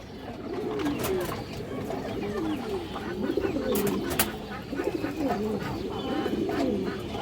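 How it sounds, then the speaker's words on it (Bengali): Pigeons, including a silver khaki male, coo in repeated soft rolling phrases close by, with a little rustling and no talk. "সিলভার খাকি নর কবুতর আছে, এটা উত্তি লাইনের কবুতর"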